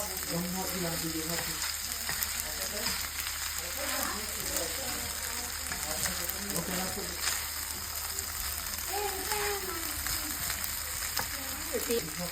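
Pad thai with garlic chives being stirred and fried in a pan, a steady sizzle and frying crackle with scraping stir movements, continuous and close, with people talking over it.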